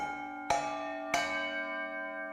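A bell tapped twice on its side with a small hammer, two bright ringing strikes about half a second apart, each leaving a long shimmering decay with sustained overtones, quiet and alone.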